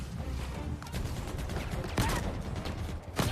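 Grunts fire plasma pistols in a Halo game: a few sharp, separated shots over a steady bed of busy combat noise.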